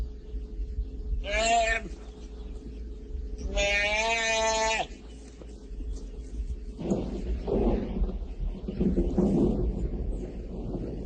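A fighting-bull calf on a Spanish ranch gives two loud, drawn-out bleating calls, the second longer, followed by low rumbling and someone speaking over the background.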